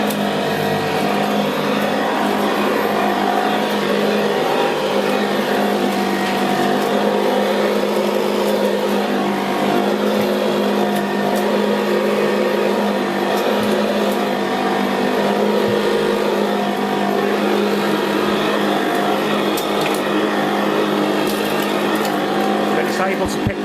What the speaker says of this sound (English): So it's going on suction alone.